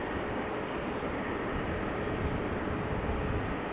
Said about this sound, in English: Singapore Airlines A350 is on the move